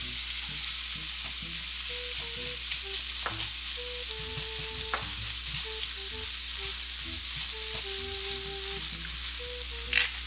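Risotto with butter and canned lump crab meat cooks in a pan, a constant close sizzle with occasional soft stirring knocks and scrapes throughout, and nobody speaking.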